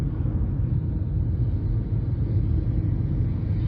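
Ford Maverick hybrid pickup's 2.5-liter naturally aspirated engine pulling in sport mode, a steady close low rumble of engine and road noise with no talking.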